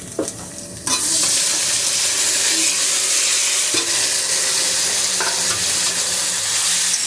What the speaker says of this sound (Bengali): আলুটাকে একটু ভেজে নেব, একটু ভাজা হতে থাক।